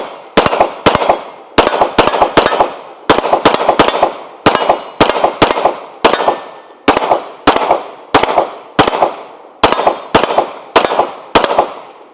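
Stainless Sig P320 SXG pistol fired in quick groups of two to four sharp, loud shots, repeated in a steady rhythm across many strings with short pauses between, each crack ringing briefly.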